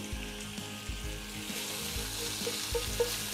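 Short ribs sear loudly in a hot pan, a steady dense sizzle running throughout, with a few low thumps and brief metallic scrapes breaking in near the start and end.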